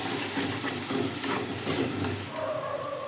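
Water used to rinse a grinding stone is poured into masala frying with bitter gourd and sesame, giving a steady loud sizzle and steamy hiss with some soft stirring scrapes.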